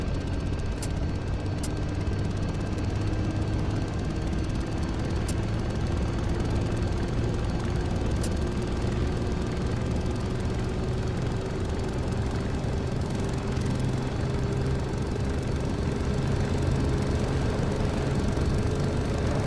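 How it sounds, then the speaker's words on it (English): An MD500 helicopter turbine spooling up in a flight simulator, a steady engine drone with a slowly rising whine held loud and constant throughout, with no talk. "Now we're able to release the startup button and let the turbine work itself."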